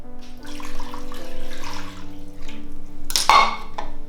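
Water pours into a pot for a homemade wassail cough remedy, a soft steady splashing trickle that runs for several seconds alongside light clinks of kitchenware, heard close and without talk.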